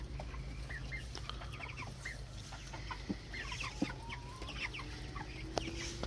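Farm ducks call with scattered quacks and clucking notes against a constant low hum of outdoor background noise, some calls near and others farther off, with no talking.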